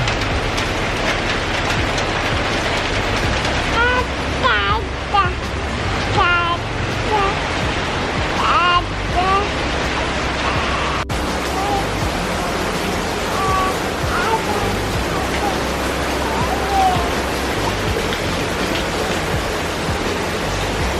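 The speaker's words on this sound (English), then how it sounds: "It's been caught in the rain. Welcome raining season." Heavy rain pours steadily at Galle Fort in Sri Lanka, a loud, continuous broadband wash that never lets up, with people talking faintly beneath it.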